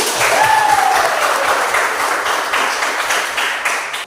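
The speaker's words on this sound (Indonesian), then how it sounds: "Tepuk tangan buat kelompok 1 dulu." A classroom group applauds together after a student group's presentation, dense steady clapping close by that fades slightly toward the end, with no talk over it.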